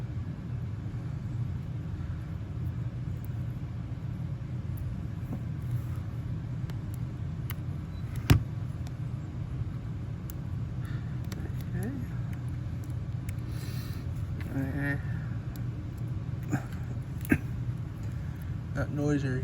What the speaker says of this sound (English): That noise you're hearing is the air conditioner in the background.